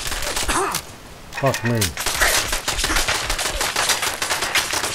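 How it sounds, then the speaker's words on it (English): Rapid bursts of light gunfire from hostile shooters in the Fallout video game, dense and continuous through most of the stretch, with a voice speaking briefly over the shots. "Picking up hostile light fire."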